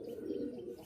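Baby Malwai pigeon cooing in a continuous, soft, low purring murmur held steadily through the moment, close by, with no voices.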